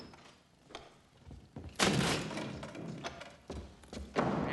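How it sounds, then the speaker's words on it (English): Dull thuds and knocks as a large man struggles through a door in a film scene, several irregular bumps and scuffs at close range over muffled background noise. "Looks like Big Baldy had a little trouble getting through the door"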